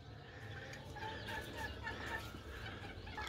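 Low, gobbling and clucking calls from an aggressive broody Serama hen rise over a steady, dense background, close and moderately loud throughout.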